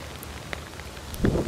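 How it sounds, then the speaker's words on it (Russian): Heavy rain pours down in a steady, dense patter close by during a fishing trip, with a few louder drops and gusty wind noise toward the end. "Ветер, дождь льет."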